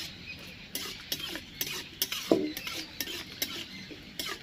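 Whole spices, cloves and small cardamom, fry lightly in a pan for a puja-style bhog khichuri, with a steady soft sizzle under a series of sharp metal clinks from stirring.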